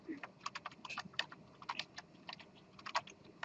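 Light, close keystrokes on a computer keyboard tap out numbers in an uneven rhythm of single presses and short clusters, with no talking over them.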